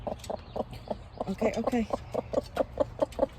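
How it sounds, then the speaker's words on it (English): Backyard farm chickens cluck nearby in a quick, steady run of short clucks, mixed with a voice speaking briefly. "They are the sweetest chickens, you guys."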